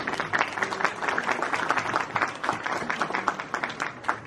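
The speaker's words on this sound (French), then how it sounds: "je vais donner la parole à notre gérant du groupe Marca, Hakan Sitting, sous vos applaudissements." An indoor audience claps continuously at a store opening in Paris, dense and steady applause close by, with no voices over it.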